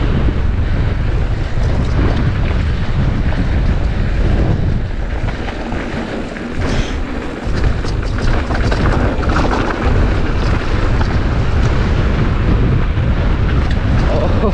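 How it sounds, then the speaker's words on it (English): Strong wind storm gusts roar and buffet the microphone while mountain biking on a Southern California trail, a loud continuous rush with brief dips and no clear talking. "Super windy."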